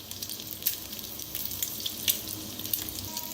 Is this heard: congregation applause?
no